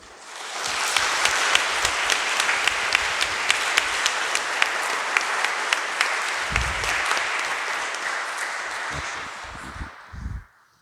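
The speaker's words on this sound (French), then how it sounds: "Merci, on va les applaudir." A church congregation applauds during a Sunday Mass, sustained dense clapping of many hands for about ten seconds that fades out near the end, with a few low thumps toward the close.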